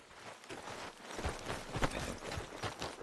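Horse hooves clip-clop at a walking pace on a trail in the video game Red Dead Redemption 2, a close, uneven rhythm of soft thuds under faint ambience.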